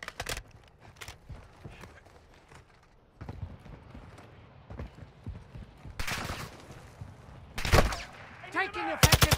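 Gunfire in Call of Duty: Modern Warfare II, with scattered sharp shots and short bursts at moderate loudness that grow louder and denser toward the end over a quieter background.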